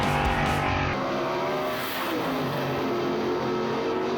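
Gasser-class drag racing car accelerating hard at a drag strip in a loud, sustained engine roar, with rising harmonics and a hint of tire squeal, close and continuous throughout with no talk.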